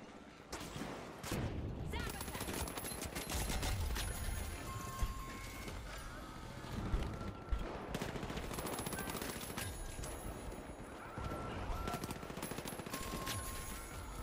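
Automated turrets firing in The Finals, rapid rattling bursts and sharp impacts repeating throughout, loud and busy, with a person talking and reacting over the shooting.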